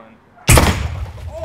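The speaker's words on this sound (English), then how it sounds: "we got a Fruit Ninja-style bomb versus pineapple" A Fruit Ninja-style bomb goes off against a pineapple in one sudden, loud outdoor blast that booms and then rumbles away over about a second.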